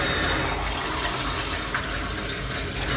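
Warm water from a kettle pours steadily into a measuring jug in a kitchen, a continuous close splashing and trickling stream that runs without a break and without talk.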